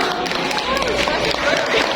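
A group claps together at an outdoor confidence-training session, the dense patter of hands lasting a couple of seconds with voices chattering over it.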